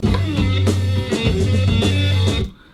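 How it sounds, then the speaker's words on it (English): A reversed electric guitar solo, from a tape played backward, with swelling, backward-sounding notes over a steady low bass line, ending abruptly in near silence. "reversed that tape in order to achieve the reverse guitar effect"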